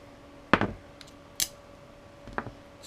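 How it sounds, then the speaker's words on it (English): Spot-welded nickel tabs are pried off 18650 cells salvaged from a laptop battery, making three sharp metallic snaps and clicks spaced about a second apart, close and quiet against a faint background hum. "So I'm just pulling all the spot welds, all the tabs off, any loose tape and glue if I can get off."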